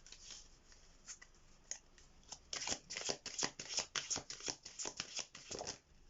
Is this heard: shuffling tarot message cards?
yes